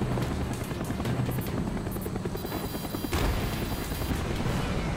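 An enemy helicopter in Call of Duty Black Ops drones loudly and continuously, its rotor roar steady throughout with a burst of heavier noise near the end and no talking.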